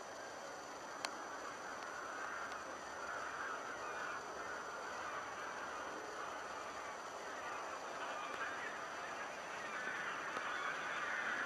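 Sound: honking geese

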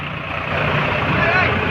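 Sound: tractors driving away

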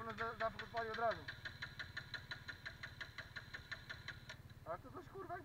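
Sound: quad bike engine starting and idling

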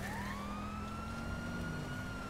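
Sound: police car siren in video game GTA V

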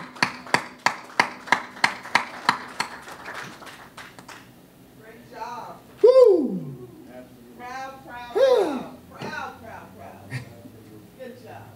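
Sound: audience applause at an art reveal

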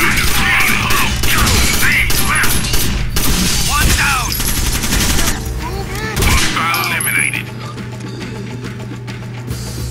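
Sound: gunfire in the video game Rainbow Six Vegas

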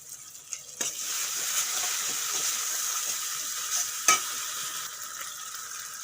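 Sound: cashew and melon seed paste stirred and frying in pan

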